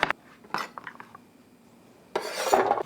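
Knife chopping parsnip and turnip roughly in a kitchen, with a short burst of hard cuts at the start, a quieter stretch of scattered taps, then a denser, louder run of chopping near the end.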